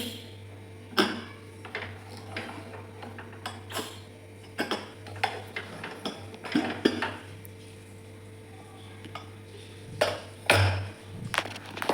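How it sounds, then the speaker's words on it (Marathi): A metal pressure cooker is opened after cooking raw mango with cinnamon, cloves and black pepper, with repeated clanks and clatters of metal pots and utensils spread through a quiet kitchen, a few sharper knocks standing out. "आपण आता कुकर खोलून बघू."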